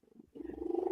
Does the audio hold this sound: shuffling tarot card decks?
no